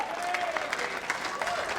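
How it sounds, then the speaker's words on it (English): Crowd at the 2023 World Bowls Championships women's fours final between Australia and England breaking into cheers and applause, a short burst of clapping heard from a distance. "Well, they're cheering."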